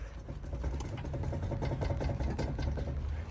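A BMW E91 320D with a bad wheel bearing making a steady droning, rumbling racket while driving, loud and continuous with a rough, pulsing texture.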